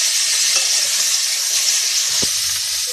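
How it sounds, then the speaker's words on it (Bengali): Mango pieces and tomato dropped into hot oil with mustard seeds for a chutney, a loud steady sizzle and hiss with a faint stir partway through. "তেল দিয়ে দিলাম, একটু সর্ষে ফোড়ন দিয়ে দিলাম, দিয়ে এই যে আম আর এই টমেটো দিয়ে দিলাম।"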